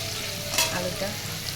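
Potato pieces frying in a pan with salt and a little turmeric while being stirred, a steady close sizzle with a brief scrape.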